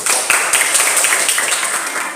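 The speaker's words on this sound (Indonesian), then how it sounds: "Kita beri tepuk tangan dulu untuk kelompok matahari." Applause from a classroom of students for the group named Matahari, a dense, steady wash of hand claps that holds at an even level throughout.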